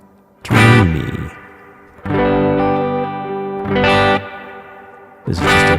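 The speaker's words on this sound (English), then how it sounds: "This is just a big modulated reverb." An instrument played through a big, dreamy modulated reverb preset gives four separate sustained notes that swell and shimmer with lush wavering tails.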